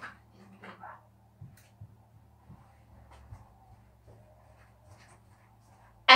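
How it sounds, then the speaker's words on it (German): A dog chews and crunches Christmas star treats up close, with soft irregular bites and faint whimpering noises over a low room hum, ending in a sudden loud clatter. "ich habe jetzt gerade meinem Hund Sternchen gegeben"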